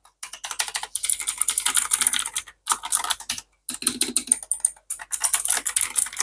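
Close, rapid clicky typing on a Raiku GK83 mechanical keyboard with blue switches, bursts of sharp bright keystrokes broken by short pauses, with no voice over it.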